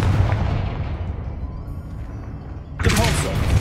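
A Confringo blast spell in the 2023 Harry Potter game Hogwarts Legacy lets off a loud, deep, rumbling explosion that slowly fades, followed by a second sharp burst near the end.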